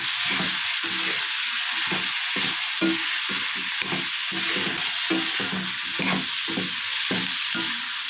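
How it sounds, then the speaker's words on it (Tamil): Onion, tomato, green chillies and dried red chillies are sautéed in a pan, giving a loud continuous hiss of frying with rapid, regular stirring strokes throughout, close up and without speech. "பச்சை மிளகா காஞ்ச மிளகாய் தக்காளி வெங்காயம் நல்லா சேர்த்து நல்லா வதக்கிடுங்க"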